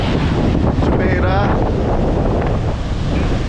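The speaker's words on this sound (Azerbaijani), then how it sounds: "Dəniz." Strong wind buffets the microphone at Jumeirah beach in Dubai, with the sea's wash and surf underneath as a loud, continuous roar and a brief faint voice in the middle.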